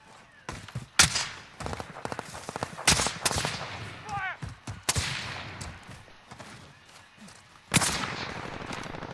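Gunfire in the video game Call of Duty: Modern Warfare, sharp bursts and single shots cracking irregularly at close range, some rapid volleys, with a late loud burst and a voice speaking briefly between shots.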